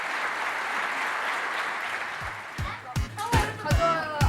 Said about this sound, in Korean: 관객들도 박수를 아끼지 않습니다